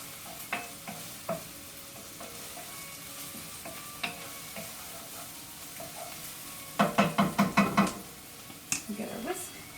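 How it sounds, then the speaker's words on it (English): Kale sautéing with sesame oil is stirred in a pan, giving a soft sizzle with light scrapes and a quick cluster of rhythmic clinks near the end, fairly close and moderately quiet. "So let's give this a quick mix over here."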